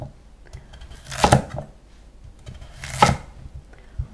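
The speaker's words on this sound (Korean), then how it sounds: "국에 들어갈 무는 나박썰기를 해주세요." Knife chopping radish into thin square slices for soup on a cutting board, two distinct close cuts spaced apart with quiet gaps between.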